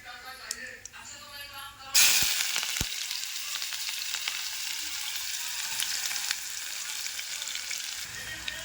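Onion hits hot oil already crackling with cumin and mustard seeds. A sudden loud sizzle bursts out, then keeps up a steady, close frying hiss with occasional stirring clinks. Faint earlier sounds come before it, and no one talks.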